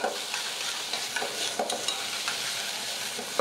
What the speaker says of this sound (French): Donc on fait suer tranquillement ces échalotes là